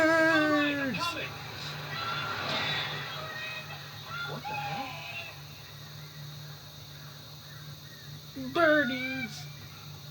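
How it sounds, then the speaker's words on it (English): Screeching birds attack in the video game Alan Wake, with two shrill, descending harmonic cries, one near the start and one near the end, over low ambient game drone while a player speaks briefly. "Birdies! It's like Hitchcock."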